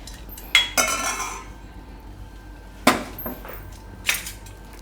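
A spoon mixes curd into a puffed rice and semolina batter for Gujarati mamra vada, giving a few scraping strokes and clinks against the bowl spaced a second or two apart, close and otherwise quiet.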